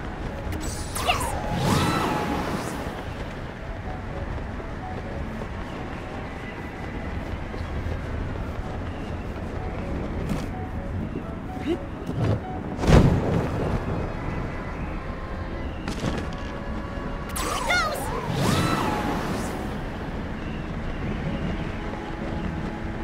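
Gusts of wind rush through Zelda: Tears of the Kingdom, with several loud whooshing surges rising and fading over a steady airy background.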